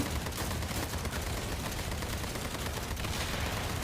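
Rapid bursts of gunfire crackle continuously, dense and fairly distant, like sustained automatic shooting in a zombie video game.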